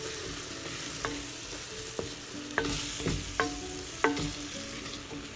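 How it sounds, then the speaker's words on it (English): Pork pieces coated in flour frying in a pan for green chile, a constant sizzle broken by several sharp scraping clanks of a spoon stirring against the pan at irregular intervals. "we're going to stir that in so it coats evenly and cooks evenly"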